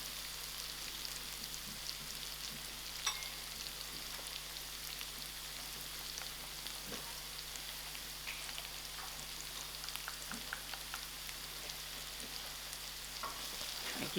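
Black pepper and fish sauce stirred into a pan of seafood paella, a faint, steady sizzle with scattered soft scrapes and light ticks of the spoon throughout, quiet and continuous.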